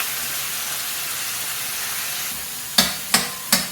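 Coarsely ground masala sautéed in a pan for arachivitta sambar: a steady low frying hiss, then three quick scraping stirs near the end.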